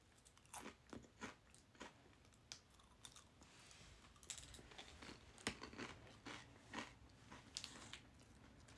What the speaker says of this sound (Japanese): コーンフレーク美味しい。